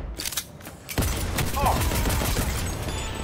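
A pistol fires in Cyberpunk 2077 with a sharp close shot, followed by a burst of impact and echo noise that lingers briefly.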